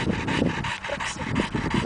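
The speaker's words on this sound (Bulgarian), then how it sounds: "Умореното куче." A tired dog pants heavily and rapidly outdoors, a steady rhythm of loud, close, breathy huffs that continues throughout with no talk.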